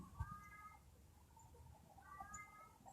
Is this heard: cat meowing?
yes